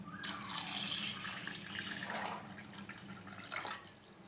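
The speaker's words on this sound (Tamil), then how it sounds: "ஸோ அரவுண்ட் 8 டம்ளர்ஸ் தண்ணி நான் விட போகிறேன்." Water splashes and gurgles steadily as about eight tumblers of water are poured into a vessel for rice vadam batter, a continuous rushing hiss that swells and thins toward the end.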